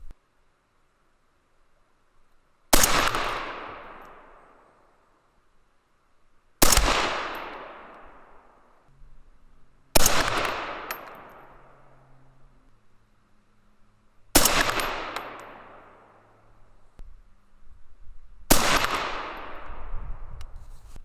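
Five loud 6mm ARC rifle shots fired one at a time from a group, each a sharp crack with a long decaying tail, spaced about four seconds apart.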